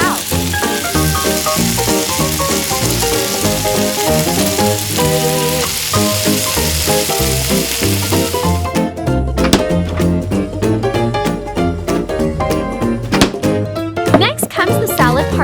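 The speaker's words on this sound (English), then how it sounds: "Fry until the octopus is dry" Octopus pieces fry in an oiled pan with a loud, hissing sizzle that runs under louder background music, fading partway through as the music continues alone.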